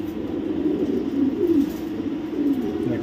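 A pair of Tiger Racer pigeons cooing close by, with repeated low throaty coos rolling in a steady rhythm over a faint background hum.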